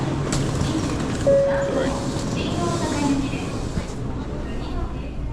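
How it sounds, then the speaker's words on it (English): Shinkansen bullet train interior rumble, a steady low roar of the carriage running beneath a brief spoken word and faint background voices, with a short tonal chime partway through. "The Shinkansen, or bullet train, reaches speeds of up to 320 kilometers per hour"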